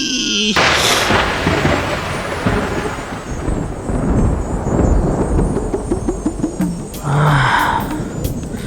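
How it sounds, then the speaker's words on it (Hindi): A loud thunderclap cracks at the start, then a long rolling rumble fills the rest of the clip, with a fainter second rumble near the end. It is a dramatic storm sound effect in a Hindi fantasy TV series. "बिजली कड़की है।"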